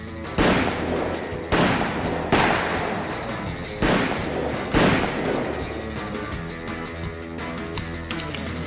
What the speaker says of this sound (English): Brad pulled a gun and shot everyone in the room dead.